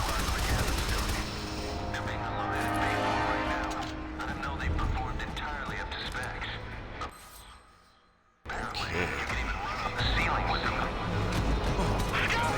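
Upgraded gun fire from an enemy in the game Shadow Complex: dense bursts of loud shots and impacts, continuous for several seconds, a brief near-silent gap, then heavy gunfire resumes alongside game sounds.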